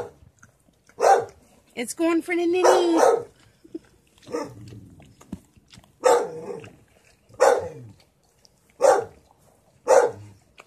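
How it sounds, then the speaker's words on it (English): A dog barks repeatedly in sharp, spaced bursts, fairly close, with a person talking briefly between barks. "that's the father in the background barking"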